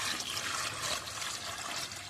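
Water is poured into a small bowl that holds an HM betta fighter fish, making a steady, close, splashing trickle that runs for the whole moment without a break.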